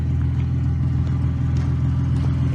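Car engine idling after a ride in snow: a steady, deep, close mechanical hum holds evenly throughout, with faint light ticks over it and no voices.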